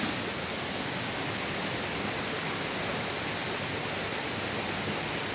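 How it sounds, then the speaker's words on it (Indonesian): Waterfall on a river, a loud, steady, unbroken roar of falling water filling the whole clip, close by with no other sounds or voices. "Curugnya."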